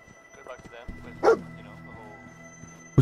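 The dog companion Dogmeat in the video game Fallout 4 gives a sharp, close bark, followed by another at the end, amid game sounds and a low background hum; someone talks over parts of it.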